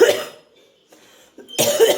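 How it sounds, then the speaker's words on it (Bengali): A person coughs close to the microphone. There are two sharp, harsh bursts, one at the start and a longer one at the end, separated by a short quiet gap with a soft breath. "যখনই কাশি আসছে তোমাদের দেখাচ্ছি"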